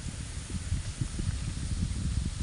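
Wind blows across open countryside farm fields, a steady, fairly quiet low rumble and breathy hiss on the microphone with small gusty pulses throughout and no voices.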